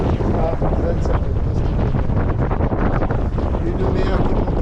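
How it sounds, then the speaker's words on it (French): Strong wind rushes across the microphone aboard a sailboat heading into rough head seas, a loud, continuous roar with gusty buffeting and water wash beneath. "Un vent qui monte à 25 nœuds."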